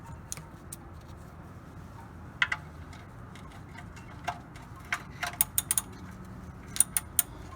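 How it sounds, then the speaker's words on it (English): A ratchet works on a 2003 Nissan Sentra during an oil and filter change, giving scattered quiet clicks and short bursts of ticking at close range over a low background hum, with no talk. "We'll reset our ratchet."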